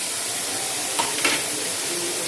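Chopped onion frying in a pan with ginger for semolina momos, a steady close hiss and sizzle with a couple of soft stirring scrapes.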